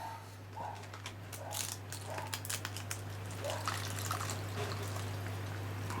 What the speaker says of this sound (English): Let's see if I can pour this in here without spilling it everywhere.